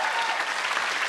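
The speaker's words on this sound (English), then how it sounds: "Can we just applaud her for" An audience claps loudly during a televised panel discussion on women's issues, a thick continuous burst of many hands that fills the whole moment without a break.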